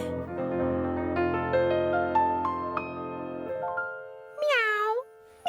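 A cat lets out a single clear, drawn-out meow near the end, following a passage of sustained piano notes.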